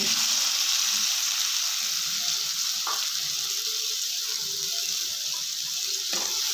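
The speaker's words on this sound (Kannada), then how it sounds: "ಈರುಳ್ಳಿ ಕಲರ್ ಚೇಂಜ್ ಆಗೋವರೆಗೆ ಹುರ್ಕೊಳ್ಳೋಣ" Chopped onion frying in oil in a pan for egg curry, a loud steady sizzle and hiss close by with a couple of brief stirring scrapes.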